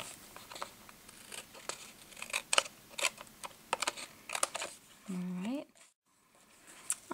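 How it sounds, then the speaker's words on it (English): Scissors snip along the overlong edges of a papercraft fence, a run of short crisp cuts close by, with a brief crinkle of paper near the end. "so I'm just going to trim off the edges here"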